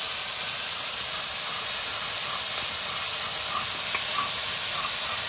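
Chicken pieces sizzling in a pan for chicken kuli pitha, giving a steady, broad hiss of frying throughout; close and moderately quiet, with no one speaking.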